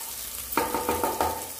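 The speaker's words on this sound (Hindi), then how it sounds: "इनको भी थोड़ा सा लाइट ब्राउन हो जाने देंगे।" Onions fry in a pan until light brown, a soft sizzle with a quick series of four or five stirring clinks and scrapes close by.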